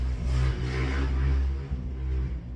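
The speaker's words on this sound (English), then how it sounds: "That was a very loud motorbike" A loud motorbike roars past close by, its engine note swelling and holding steady for a couple of seconds before easing slightly, with no voices over it.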